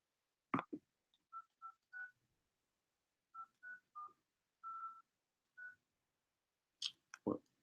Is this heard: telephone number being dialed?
yes